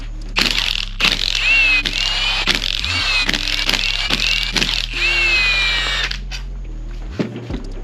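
Impact gun blasting off 10 mm bolts during an STi engine teardown, loud close bursts of high whining rattle separated by brief pauses and metallic clicks, several in a row.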